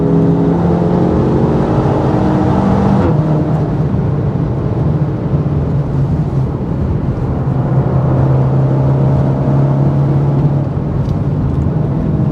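A BMW M4 accelerating hard on the Nürburgring, heard from inside the cabin as a loud, continuous engine roar that rises through the gears with a brief shift break, sustained for over ten seconds.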